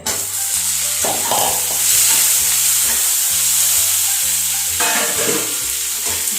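Paneer and tomato frying in a pan for a spicy paneer lunch dish, a steady loud sizzle with repeated stirring and scraping strokes, alone with no talk.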